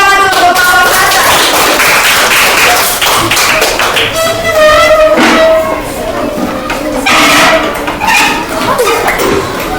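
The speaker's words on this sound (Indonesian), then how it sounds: "Ayo tepuk tangan dulu untuk kelompok Selasa" A group claps for a classroom team before their presentation, sharp dense taps close up over a steady voice and other sounds throughout.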